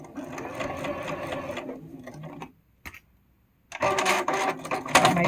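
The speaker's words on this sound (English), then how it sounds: "I'm going to turn, lift up my presser foot, turn, and sew off that edge." A home sewing machine stitches off the edge of a table runner, whirring steadily, pausing briefly with a soft click as the presser foot is lifted and the fabric turned, then resuming its fast, loud stitching.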